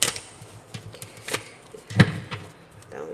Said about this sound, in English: I have not been practicing my bridge shuffle.